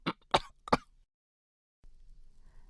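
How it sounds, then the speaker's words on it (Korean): An old man lying down clears his throat and coughs lightly, three short close bursts followed by quiet rustling. "아버지가 모로 돌아 누우면서 잔기침을 해댔다"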